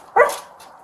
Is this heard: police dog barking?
yes